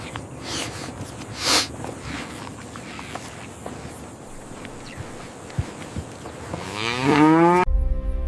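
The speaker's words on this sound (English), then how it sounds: "As the Brahman cattle calmly walk down the ramp" Brahman cattle moo near the end, a rising drawn-out call after scattered hoof steps and shuffling on a ramp, close and fairly loud.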